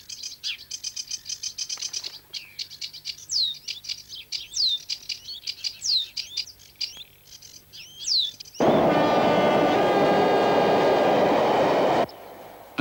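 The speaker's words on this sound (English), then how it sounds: "The reed beds are shared with another little brown bird, the reed warbler, but sedge and reed live happily side by side." Small songbirds, sedge and reed warblers, sing from reed beds in repeated chirps and sweeping whistled phrases for about eight seconds, then a loud broadband rushing noise, like a passing train, swamps everything until near the end.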